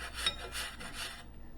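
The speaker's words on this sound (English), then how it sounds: "So now we have an apple to grate right into the sauce." A peeled Granny Smith apple is grated by hand into coleslaw sauce, three quiet rasping strokes in a steady rhythm, close and soft with nothing else heard.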